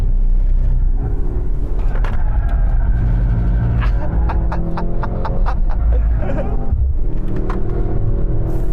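Mercedes-AMG C63 engine while driving, a loud, steady low rumble and throb with rising and falling engine tones and shifting pitch throughout, heard from inside the car.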